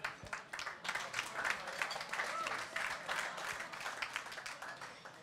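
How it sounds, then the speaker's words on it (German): Encouraging applause from an audience at a VIP talk after a home football match lost to Würzburger Kickers, a sustained dense clapping that stays fairly faint and distant throughout. "Aufmunternder Applaus, der tut gut, oder?"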